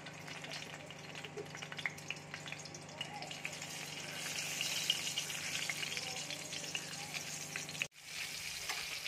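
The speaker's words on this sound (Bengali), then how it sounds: "এবার আমি পেয়ারাটা ঘি দিয়ে ভেজে নেব।" Guava pieces fry in hot ghee with a soft, steady sizzle that swells slightly midway, then a brief sharp break before the quiet frying resumes.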